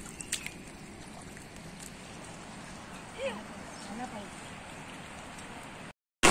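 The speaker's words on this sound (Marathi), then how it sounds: "आणि परत एकदा पाऊस सुरू झालेला आहे" Faint, steady rain patters over a muddy rice paddy in the Konkan countryside, a soft continuous hiss broken by a few light knocks and a brief distant voice.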